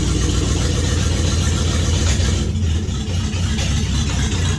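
A 1956 vehicle's engine idling continuously after being dropped from high idle, a steady close mid-low running drone with slight unevenness partway through, no talking.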